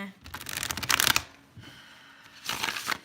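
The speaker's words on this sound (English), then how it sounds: "Sorry, guys, it's going to take a little bit of time to shuffle." A deck of tarot cards is shuffled by hand in two quick riffling bursts, crisp flapping and snapping close up with a pause between, faint talk underneath.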